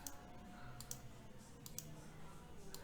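Sharp computer mouse clicks, spaced a few per second, while photo collage animations are set up in PowerPoint, heard faintly over a quiet room hum.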